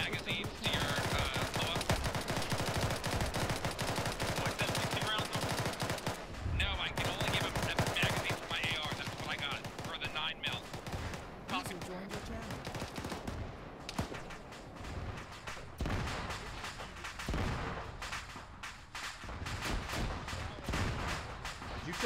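AR rifle gunfire in a military video game: sustained rapid bursts and scattered shots across a loud, busy battle mix, with voices talking intermittently over the fighting.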